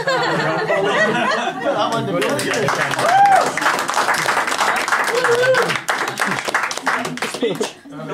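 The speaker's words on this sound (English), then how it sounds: "More enthusiastic with your applause." An appreciation-dinner audience claps amid chatter and scattered chuckles, the applause building after a couple of seconds and mixing with voices and laughter throughout.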